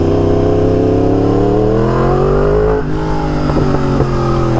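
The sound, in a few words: Yamaha R1M sport motorcycle engine revving with choppy throttle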